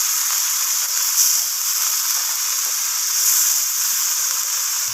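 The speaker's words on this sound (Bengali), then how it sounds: "পেস্টটাকে একটু নাড়াচাড়া করে ভাজা ভাজা করে নিচ্ছি" Ginger spice paste frying in hot tempering oil while being stirred, a steady close hiss and sizzle holding evenly throughout with no talking.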